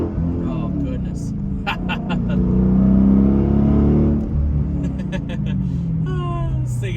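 A Dodge Challenger SRT8 with a manual transmission pulls away while driving, its deep engine rumble climbing and swelling to a peak mid-way before easing back, heard from inside the car.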